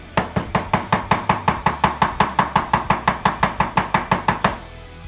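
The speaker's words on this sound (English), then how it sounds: "So you're gonna chop that off and just use just 1 head of mint in this mix" A knife chops through mint tops on a cutting board in quick, even strokes, about twenty sharp close knocks at a steady rhythm, then it stops.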